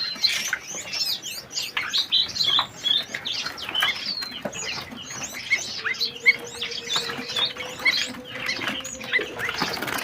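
Many small songbirds chirp and twitter at once in a busy, overlapping chorus inside a bird shop, with a faint steady hum underneath.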